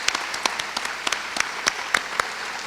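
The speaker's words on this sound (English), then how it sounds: "Would you please stand just for a round of applause?" Audience at a high school hall of fame induction applauding foundation directors and advisors, a steady crowd patter with several sharp, close individual claps standing out.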